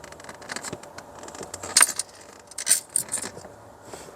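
A bunch of keys jangles and clinks inside a car, in short bursts around the middle and at the end, with low road and cabin rumble beneath.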